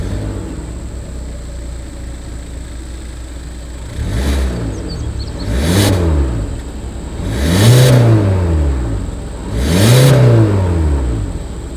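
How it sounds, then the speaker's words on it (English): A 2020 Hyundai Elantra sits idling, then its engine and exhaust are revved four times, each rev rising and falling in a loud close whir, with no talking. "As always, here is that exhaust clip."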